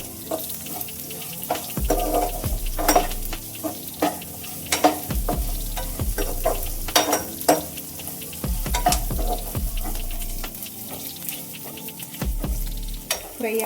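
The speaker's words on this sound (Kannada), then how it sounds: "ಫ್ರೈ ಆಗ್ತಾ ಇದೆ ನೋಡಿ." Curry leaves, garlic and coriander seeds fry and sizzle in a pan, with repeated stirring and scraping clicks over a steady sizzle, close up and without talk.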